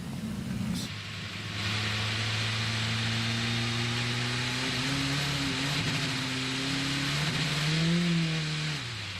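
IMSA race car at the Rolex 24 Roar Before the 24 on a wet track, engine droning steadily and rising in pitch as it accelerates past at moderate distance, broadcast-style continuous roar.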